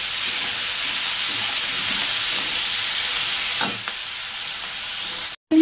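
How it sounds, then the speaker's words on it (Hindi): Salted vegetables stir-frying in a pan give a continuous bright sizzle with steam, a clatter of stirring midway, and a brief cutout near the end. "तो नमक डाल के तो सब्जियों को भून लेते हैं।"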